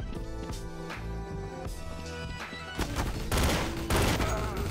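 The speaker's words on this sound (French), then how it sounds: "Je tire comme un malade, j'utilise 50 balles pour le buter" Rapid automatic gunfire in Counter-Strike: Source, sustained bursts layered over game music, growing louder and denser toward the end.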